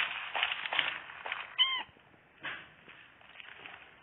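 A Minecraft cat meows a few times in short, moderately loud calls against faint background noise.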